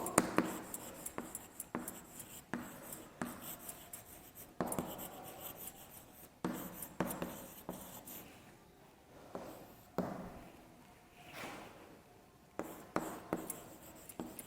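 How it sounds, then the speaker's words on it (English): Marker strokes scratch across a classroom board as an example is written out, in short rhythmic bursts with brief pauses between words, close and fairly soft. "Okay, I write one example also."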